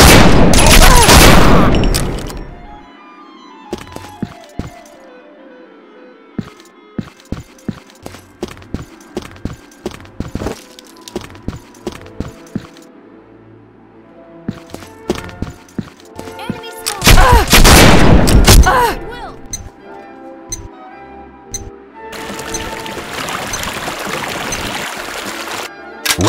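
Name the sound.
gunfire in the video game Combat Arms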